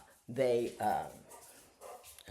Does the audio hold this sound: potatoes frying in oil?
no